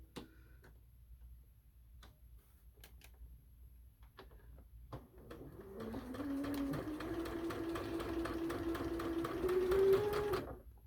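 A sewing machine stitches a spring table runner, starting after a few seconds of faint clicks and handling noise, then running in a steady, fast mechanical drone with rhythmic needle ticking that grows slightly louder near the end.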